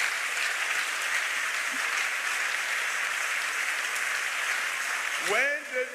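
Church congregation clapping steadily throughout a French-language thanksgiving service, a dense continuous wash of applause at moderate distance, with a voice briefly rising near the end.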